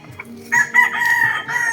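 A single three-year-old rooster crows loudly and close by, a drawn-out call held for over a second against a quiet background.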